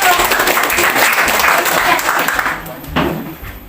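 A classroom group breaks into a dense burst of applause that lasts a couple of seconds, then fades and thins out, with voices mixed in.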